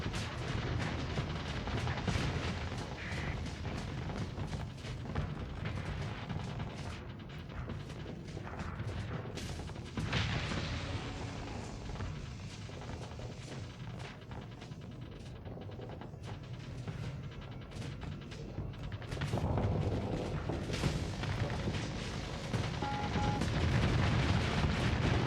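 Space combat in Starsector: a continuous rumble of explosions and weapon fire, with booming blasts and rattling shots rising and falling over about twenty-five seconds, fairly loud and with no talk.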